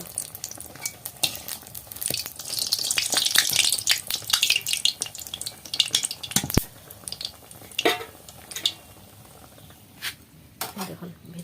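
Pitha rice cakes frying in hot oil for Poush Sankranti, a busy sizzle with stirring and clinks of utensils against the pan, close and loud, dying down near the end.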